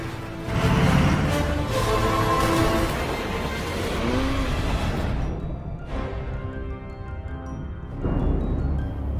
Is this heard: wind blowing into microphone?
no